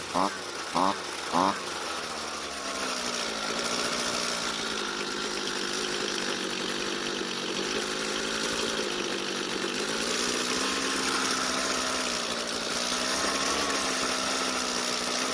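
Chainsaw engine idling unevenly before a carburetor L-screw adjustment, a steady buzzing drone with a slightly wavering pitch, preceded by a few brief knocks or revs at the start, heard close up and fairly quiet.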